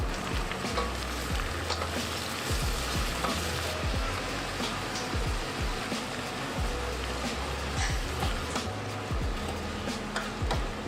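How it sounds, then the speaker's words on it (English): Carrot sautéing in a pan with yellow curry paste gives a steady, loud sizzle across the whole stretch, with repeated scraping stir strokes cutting through the frying noise. "Saute for 1 minute."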